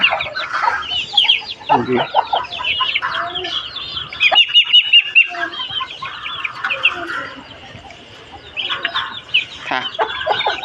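Chickens in a coop at dusk cluck and squawk in busy overlapping bursts, close and loud, with a brief pause before the clucking picks up again.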